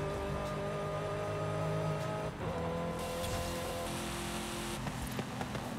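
A 2015 Dodge Charger Hellcat idles and revs in Forza Horizon 5, its engine a steady, deep mechanical drone with a few shifts in pitch and a slight whine, continuous and close, with no talking.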